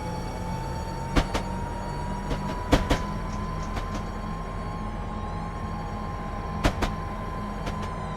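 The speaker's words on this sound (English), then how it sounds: "I'm going to shut off power and let the train coast" A train in Train Simulator 2015 coasts with power shut off on the Faversham to St Pancras route, a steady rolling rumble with a faint whine and a few sharp clanks and knocks from the wheels and couplings.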